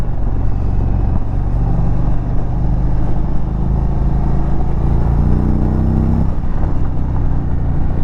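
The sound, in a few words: 2023 Indian touring motorcycle riding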